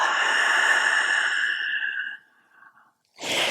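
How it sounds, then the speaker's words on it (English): A long, loud open-mouthed exhale during a yoga flow, sighing out steadily for about two seconds before fading into softer breath, then a brief fresh intake of air at the end. "Open mouth, exhale."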